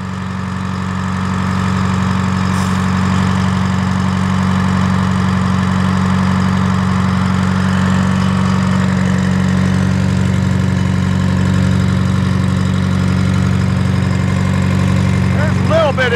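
A steady engine idles as it warms up after a test start, with loose belts and air being worked out of the system. The loud, even rumble holds throughout, with brief speech near the end.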